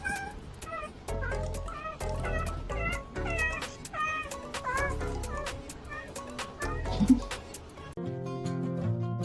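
Cats meow repeatedly in a quick series of near, fairly loud calls with short pauses between them, and a different sound takes over briefly at the end.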